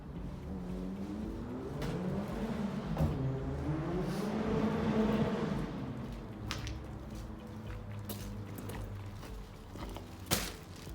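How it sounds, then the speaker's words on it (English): A car engine revs and roars in the distance, rising and falling as it speeds along a street, with a few sharp clicks nearby. "that car ripping up and down"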